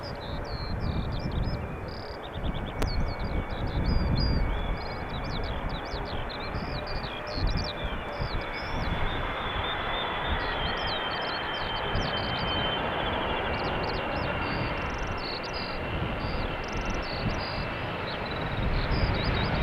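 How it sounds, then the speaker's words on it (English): A six-year-old Boeing 777-300ER arriving from Bonaire lands on runway 18R at Amsterdam Schiphol, a steady broad jet roar filling the whole stretch with small birds chirping faintly above it and no voices. "777-300ER, 6 years old, delivered in January 2017."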